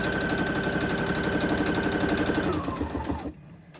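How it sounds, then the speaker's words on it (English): Sewing machine stitching around the edges of a craft folio, a fast steady mechanical rattle up close that runs for about three seconds, then slows and stops abruptly. "my sewing machine's not working because it's annoying"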